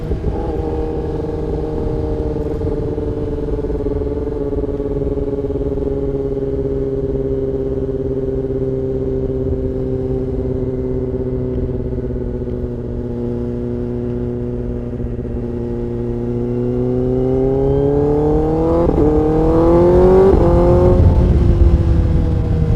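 A Kawasaki ZX10R motorcycle with a Leo Vince exhaust drones loud and close at steady speed for a long stretch, then revs up sharply through quick gear changes near the end.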